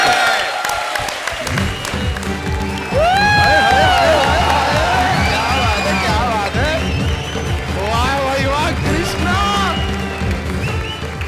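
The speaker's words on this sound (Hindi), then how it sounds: "ताली!" A studio audience at a Hindi comedy show claps and cheers in a dense, loud burst, with whoops and music layered through the steady applause.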